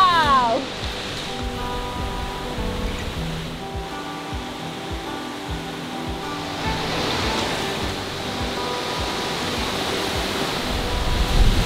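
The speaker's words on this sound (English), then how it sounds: "So we have made it to the foot of the waterfall." A large waterfall in Wales heard from its foot, a loud, constant broadband roar of falling water with no voices over it.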